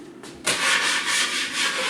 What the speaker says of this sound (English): Okay, now we're on to the sanding.